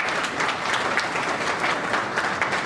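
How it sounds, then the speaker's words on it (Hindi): Loud, sustained applause fills a hall at a silver jubilee celebration for a knee replacement program, many hands clapping in a thick, continuous wash. "अब मैं ज़ोरदार तालियों के बीच में रिक्वेस्ट करना चाहूँगा"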